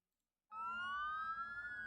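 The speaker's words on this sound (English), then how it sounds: "Sirens?" A siren from a Marvel Zombies trailer kicks in abruptly after a half-second of silence, then holds a loud, steady wail with a slowly rising pitch, heard alone.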